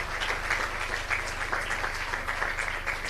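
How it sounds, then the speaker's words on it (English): Audience applause at a TEDx youth event at a school, a dense steady wash of many hands clapping throughout, fairly loud and continuous without talk. "let's give them a very big round of applause"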